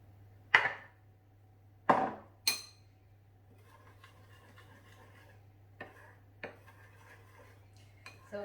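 Lemon juice is stirred into icing sugar in a bowl, beginning with three sharp clinks of a utensil against the bowl and followed by softer scattered taps and scrapes, close and quiet with a low hum behind.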